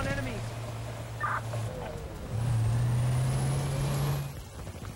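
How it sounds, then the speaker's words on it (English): Low rumbling tank engine in the video game Battlefield Bad Company 2, a steady drone that swells louder partway through and holds before easing off, with faint game ambience around it. "Why do I hear, like, a tank or something, but don't see it?"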